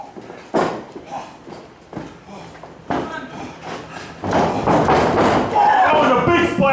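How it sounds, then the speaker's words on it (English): Forearm strikes land during a 2016 indoor professional wrestling match, heard as a series of heavy, close thuds and slaps that build toward the end, under a commentator's voice and crowd noise. "Nikki Novakaine with the big forearm shots!"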